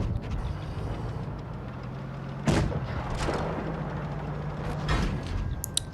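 A tank cannon firing in WoT Blitz during a WZ-121 versus 121B battle, with two or three sharp booming shots spaced a second or two apart over a low engine rumble and battlefield ambience.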